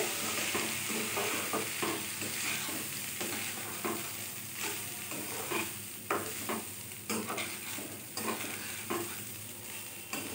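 Rice lightly frying in a pan for cherry pulao: a steady sizzle throughout, with repeated scraping stirs of a utensil against the pan, close and fairly loud.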